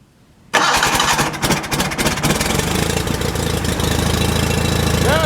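A John Deere 316 lawn tractor engine, choked and flooding, cranks and catches after a short quiet moment, then runs loud and uneven at a rough idle close by.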